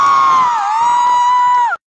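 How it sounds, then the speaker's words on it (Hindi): A concert audience lets out a loud, high collective cheer and whoop that holds for under two seconds and then cuts off abruptly. "एक दफा आप लोग सब अपने लिए तालियां बजाएं प्लीज।"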